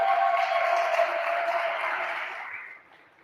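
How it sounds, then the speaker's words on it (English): A small audience gives a brief round of applause, a soft, even wash of clapping that fades away after about three seconds. "Let's give him a round of applause."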